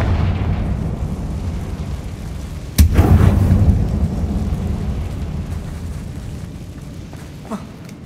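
A Confringo fire spell from Hogwarts Legacy bursts in a closed-off mine, a single loud explosive boom that rolls off into a long rumbling decay, with a faint pop a few seconds later.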